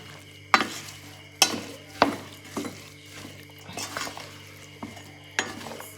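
Mango pickle mixture stirred with a spoon in a metal pot, giving sharp clinks and scrapes at irregular intervals, close and moderately loud, with no talking.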